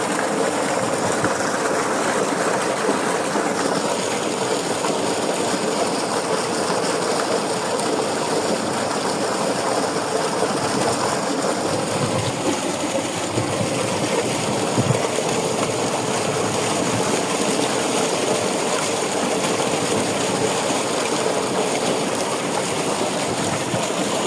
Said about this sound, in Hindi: ट्यूबवेल चल रहा था